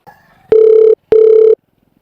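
Two long, steady ringback tones of a phone call sound close and loud, separated by a short gap, with faint murmuring before the first tone and near silence after the second.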